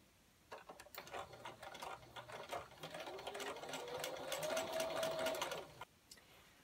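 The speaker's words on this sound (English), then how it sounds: "stitch close to the edge of the inside fold, back stitching at the beginning and the end" A sewing machine stitches along the edge of an inside fabric fold for a nine patch pillow, a rapid whirring run of needle strokes lasting about five seconds, close and clear, ending abruptly.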